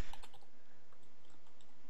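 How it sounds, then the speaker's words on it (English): Typing on a computer keyboard: a quick run of light, close key clicks in an uneven rhythm, with the loudest taps at the very start and softer, scattered presses afterward. "I'll just type correctly."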